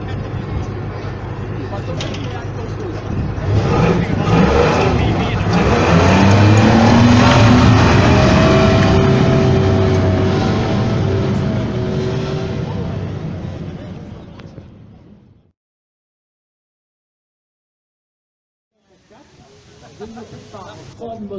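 A Ford-built military light vehicle of just over a tonne, an Indonesian version, drives past in a tank demonstration at Saumur, its engine rumbling loud and rising then fading away, with commentary over a loudspeaker and a brief quiet gap near the end.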